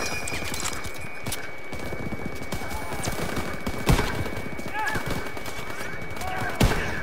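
Gunfire in Call of Duty WWII crackles in scattered shots and bursts over a busy battlefield, with a few louder close reports standing out and voices faintly underneath.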